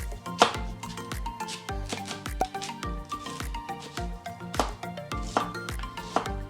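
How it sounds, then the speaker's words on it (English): A knife chops a Gala apple and a pear into small cubes on a board, with steady, rapid close-up cuts in a brisk uneven rhythm and no talking. "We're going to chop these into small cubes."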